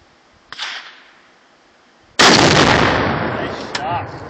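A gun fires at a half-pound star target outdoors. One sharp crack sounds softer and farther off, and a much louder, close blast follows with a long decaying roar.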